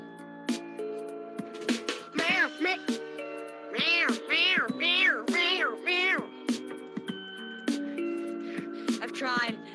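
Repeated cat meows from the Gibbon Games video game, a rapid series of bright, wavering mewing calls clustered in the middle, fairly loud, with a voice speaking between them.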